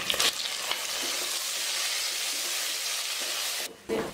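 Tomatoes hit browned onions sizzling in a pan while cooking a non-veg dish, giving a loud, steady broadband frying hiss with a few stirring scrapes that drops briefly near the end, with no talking.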